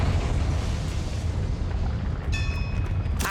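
A Confringo spell explodes in Hogwarts Legacy as a loud rumbling boom that fills the whole moment, followed by a brief bright ringing shimmer near the end.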